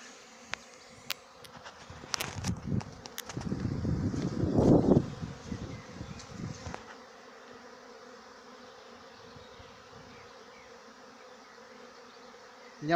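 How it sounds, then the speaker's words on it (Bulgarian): Honeybees buzz at an apiary in April, with rapeseed in full bloom nearby after two days of rain. A quiet hum swells into a closer, louder burst of buzzing, then fades back to a low, distant drone. "След 2 дена дъжд, пчелина оживя отново."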